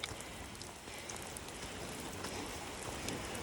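Light rain pattering steadily on a tarp at a tent campsite, a soft even hiss with no voices.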